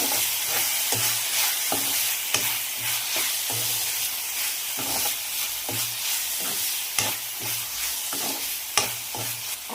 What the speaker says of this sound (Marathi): पुन्हा परतते.